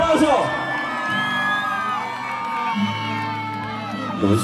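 Spectators at a live folk music concert in Cerenzia, Calabria, cheer, whoop and shout in a loud, sustained roar, with high voices rising and falling over a steady crowd bed.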